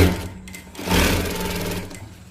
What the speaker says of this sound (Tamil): இப்போ வந்து நான் ஸ்டிச் பண்ணிட்டேன்